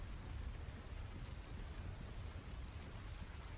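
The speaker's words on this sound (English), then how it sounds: "as the thunder rumbles, almost like a growl" Low, continuous thunder rumbling during a storm, a steady, broad roar that stays even and fairly distant throughout, with no voices present.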